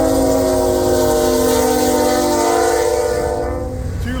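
A Norfolk Southern train of hopper cars, led by two locomotives, rolls past close by, its horn sounding in a long, loud sustained blast over the heavy rumble of the cars, easing slightly near the end.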